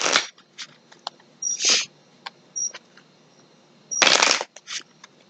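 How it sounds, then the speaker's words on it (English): A deck of tarot cards being shuffled close up, with several crisp riffling bursts separated by brief pauses and one longer flurry near the end. "One more shuffle."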